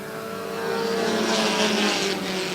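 Race cars roaring past on a racetrack during an auto race, a continuous loud engine drone that swells as the cars go by, with no talk over it.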